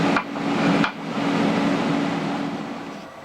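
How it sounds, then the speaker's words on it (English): A milling machine cleaning up welds on an oversize cutter gives a loud, steady grinding whir with a sustained mechanical tone, broken by two brief sharp changes near the start and then running evenly to the end. "We got it in the mill. We're just gonna come through and clean up some of these welds"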